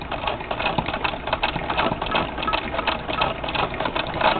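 A 1916 Singer 66-1 sewing machine, turned by hand crank, stitches embroidery in a steady, dense mechanical whir with a constant rapid needle chatter, close up and uninterrupted for several seconds.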